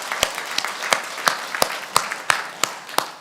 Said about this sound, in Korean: 하나님께 박수를 올려드리십시다